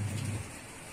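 Steady rain falling on a monsoon morning over a garden's shaded plant area, a constant hiss with a low rumble in the first half-second, heard alone without voices.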